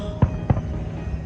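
Two loud fireworks bursts boom a fraction of a second apart at a Fourth of July celebration, each a broad low thud over a steady background rumble.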